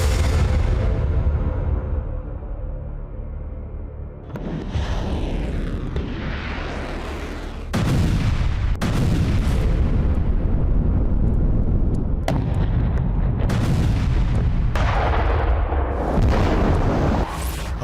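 A missile launch from a silo: a deep continuous roar with booming low rumble that swells loudly, broken by abrupt cuts in the sound, dense and powerful throughout.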